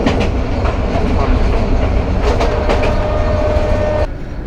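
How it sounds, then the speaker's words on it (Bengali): Jamuna Express passenger train running at speed on rails, a loud continuous rumble with rhythmic wheel clatter throughout, easing slightly near the end. "আমাদের ট্রেনের স্পিড কিন্তু এখন একটু বাড়ছে।"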